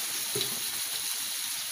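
Masala spice paste sizzles and fries in a pan over fairly high heat while cooking for aloo gobhi sabzi, a steady low crackle with no voices.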